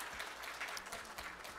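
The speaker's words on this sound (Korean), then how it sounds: "박수로 환영하겠습니다" A congregation at a Sunday church service applauds to welcome a member, a dense, steady roomful of clapping heard alone throughout.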